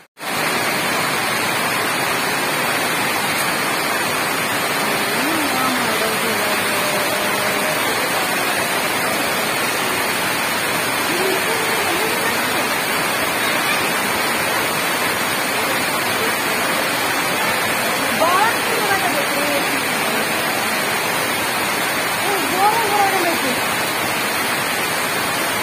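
Heavy rain pours steadily at a Durga temple, a dense, constant roar of downpour with no breaks, with faint voices buried in the wash of water.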